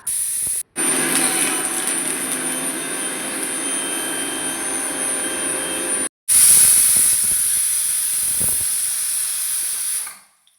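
Steam hisses loudly and steadily from a pressure cooker cooking mussels on the stove, a continuous rushing jet that breaks off twice and ends abruptly near the close.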